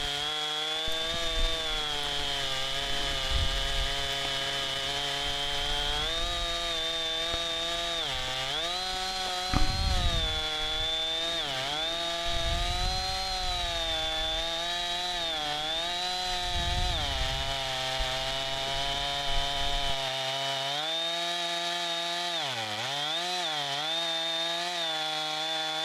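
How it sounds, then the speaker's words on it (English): A chainsaw with a 24-inch bar cuts through a spalted maple log, its engine droning loud and close for the whole stretch, with the pitch dipping and recovering under load before it settles. "cut all the way through the log with the chainsaw"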